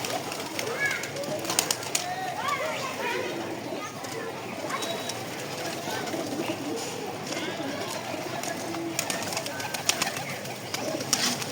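Pigeons coo in soft, repeated throaty calls close by, with someone talking over them and some background chatter.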